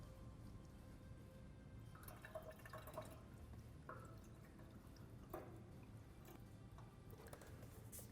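Excess distilled water poured off a tray, heard as faint, close dripping and trickling splashes scattered over several seconds in a quiet room, with no voices.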